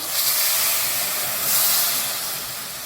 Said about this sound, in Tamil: இதில் கொஞ்சமாக தண்ணி ஊற்றிக்கிறேன்